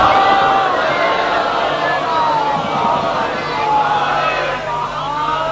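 A crowd at a Shia majlis chants salawat together in unison, a dense mass of voices filling the whole stretch at a steady, loud level.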